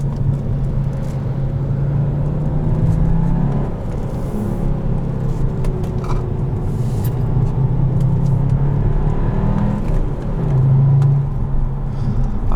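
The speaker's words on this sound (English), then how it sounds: "Now I'm getting second gear down." A 2017 Volkswagen Jetta GLI with a manual gearbox downshifts to second gear on the Autobahn, a steady loud engine drone with the revs rising briefly in pulses over constant road and wind rumble.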